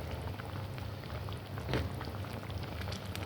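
Vegetables frying in hot oil as they are stirred in a pot, giving a continuous close crackling sizzle with a brief louder burst midway, no talking.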